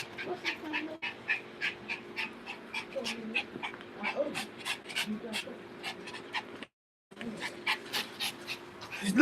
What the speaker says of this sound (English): Look at my this used to be my dog.